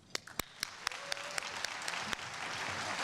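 Audience applause at a university awards ceremony for a community service award winner, opening with a few sharp individual claps that swell into steady, sustained clapping from a large crowd.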